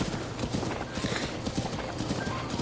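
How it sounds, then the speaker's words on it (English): Horse hooves clip-clop in a steady trotting rhythm on a path in the video game Zelda Breath of the Wild, clear and continuous with faint game ambience behind. "if you are on a path, your horse will automatically follow the path"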